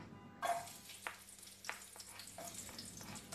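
Aromatics sautéing in cooking oil for a lentil dish, a steady soft sizzle with occasional sharper crackles and scrapes, fairly quiet and close, no talking.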